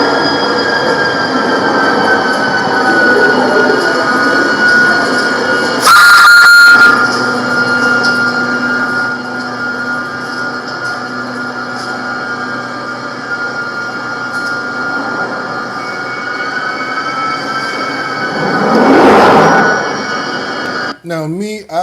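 A train at an almost empty station platform: a loud, sustained rumble of rolling railcars with a drawn-out wheel squeal, punctuated by a few short sharp bursts, with faint voices at times.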